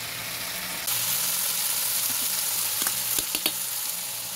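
Tilapia pieces frying in hot oil in a pan, a loud steady sizzle that jumps up abruptly early on and then crackles continuously, with a few sharp pops and spatters near the end.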